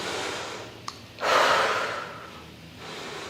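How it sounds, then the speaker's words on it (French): Heavy controlled breathing while recovering from a no-equipment bodyweight circuit workout: a short sharp intake, then a long, loud, breathy exhale that fades. Softer breaths follow, all close and clear. "Essayez de reprendre le contrôle de cette respiration."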